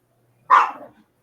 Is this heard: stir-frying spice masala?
no